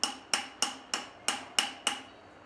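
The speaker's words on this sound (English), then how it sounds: "Usually you just tap them down nice and easy." A plastic insulating bushing (1/2-inch) is tapped down onto the end of electrical conduit, giving seven light, evenly spaced taps close by, each with a short ringing decay.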